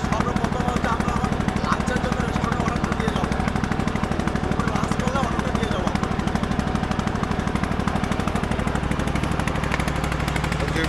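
A motor trawler boat's engine runs on Kaptai Lake with a steady, loud, rapid chugging throb that continues throughout, with faint voices in the background.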